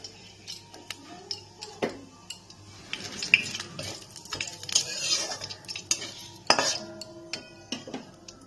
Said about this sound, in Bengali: একটা তেজপাতা, গোটা জিরে ফোড়ন দিয়ে দিলাম